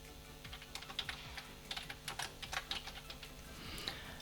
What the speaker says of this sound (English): we start typing another company